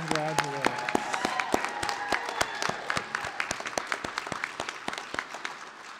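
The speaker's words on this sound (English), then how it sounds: "A round of applause for the ADN program graduates." Applause for nursing (ADN program) graduates at an April 2021 Fairborn commencement: steady scattered clapping runs throughout, with sharp individual claps standing out. A voice briefly sounds near the start.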